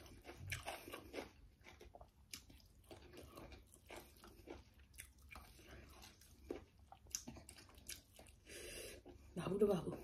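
Someone chews a mouthful of rice up close with soft, wet, intermittent mouth sounds. The chewing is quiet, and faint vocal noises sit in the background.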